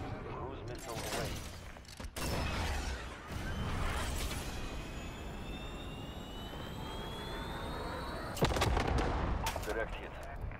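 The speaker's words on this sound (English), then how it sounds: "Cruise missile away." A cruise missile launching in the video game Call of Duty: Modern Warfare, a loud sustained roaring rush with rising jet-like whine, set amid bursts of gunfire and explosions, with a sharp blast near the end.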